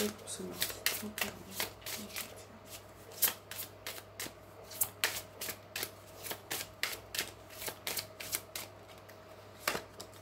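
Tarot cards are shuffled by hand in quick, regular riffling bursts, close and fairly quiet, about fifteen crisp flutters over steady low background hum.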